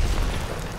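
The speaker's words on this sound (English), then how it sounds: "Throw a nade and scare him." Grenade exploding in a shooter video game, a short loud low boom with a rumbling burst that fills the whole sound, close and heavy.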